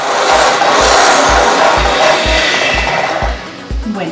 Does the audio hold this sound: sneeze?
no